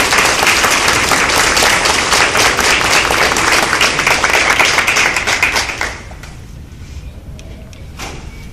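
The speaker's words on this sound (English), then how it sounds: "Please give a round of applause" Loud, dense applause from an audience at a nursing capping ceremony goes on for about six seconds, then drops off sharply to a quiet room with a few stray claps and light noise.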